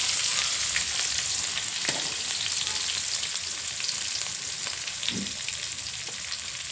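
Onions fry with cumin in a pan, giving a dense, steady sizzle close by, with a couple of brief stirring scrapes and no voices.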